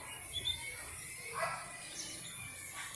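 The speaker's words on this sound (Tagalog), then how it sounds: "Yan yung ibon o." Birds nesting in a front yard chirp faintly in a few short, scattered calls over a quiet, hissy background, with soft indistinct talk nearby.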